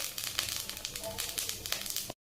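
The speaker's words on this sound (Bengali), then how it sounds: "এখানে আমি তেলের মধ্যে দিয়ে দেবো 5 ফোড়ন" Five whole spices (phoron) dropped into hot oil, giving a soft crackling sizzle with small popping bursts for about two seconds before cutting off.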